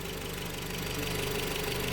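Toyota Aqua engine running steadily and revving slightly, a dense continuous mechanical drone with faint knocking texture, close and fairly loud, no voices.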